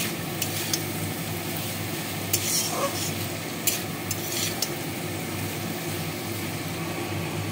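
Ground cumin and chili powder frying with sugar in a pan for mochar ghonto, a Bengali banana-flower dish, under steady stirring; a low continuous sizzle runs throughout with occasional soft scrapes of a utensil against the pan.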